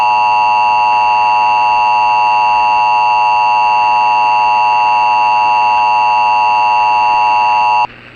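Emergency Alert System attention tone, a steady loud dual-tone alert sustained for nearly eight seconds without break, then cutting off abruptly to a quieter hum.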